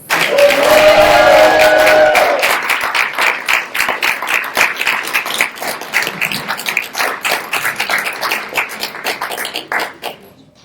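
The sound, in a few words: audience applause welcoming the poet laureate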